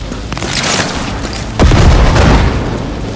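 Heavy booming gunfire from a weapon in Cyberpunk 2077, a loud blast followed by another deep, rumbling shot that hangs in the air, with no voices heard.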